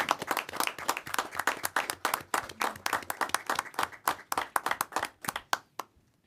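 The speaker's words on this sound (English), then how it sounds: "register our support with a warm, rousing round of applause for these amazing women" A committee meeting audience breaks into a warm round of applause, dense clapping from many hands close by that thins out and fades toward the end.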